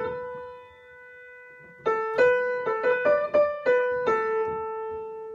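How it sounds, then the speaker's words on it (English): Mandolin playing the Wexford Carol melody alone, a held opening note followed by a string of plucked notes with bright, quickly decaying attacks, played at a gentle, unhurried pace. "If I just play the melody by itself."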